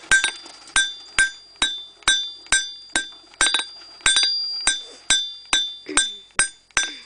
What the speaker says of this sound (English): we're going to taper with the hammer on the anvil